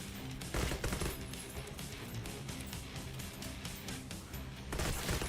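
Automatic gunfire from a video game blazes in sustained rapid bursts, loud and dense, with heavier volleys near the start and end and no voices over it.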